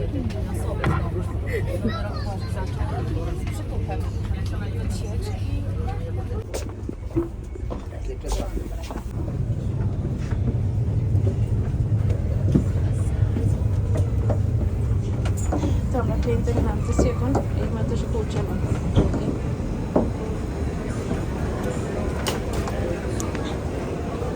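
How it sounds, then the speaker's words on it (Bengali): Riding a train in Bruges, Belgium: a steady low rumble of the moving carriage throughout, with crowd chatter and people talking over it. "তো আমরা ট্রেনে উঠছি"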